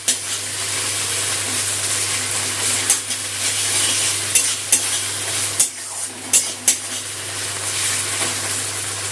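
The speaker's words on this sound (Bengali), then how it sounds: "পেঁয়াজ ভাজার সাথে আদা রসুন বাটাটা কষিয়ে নেব।" Ginger-garlic paste sizzles and fries with browned onions in a pan for Bengali mustard-poppy katla fish curry, a steady close crackle with a low hum beneath and several sharp clinks and scrapes of stirring.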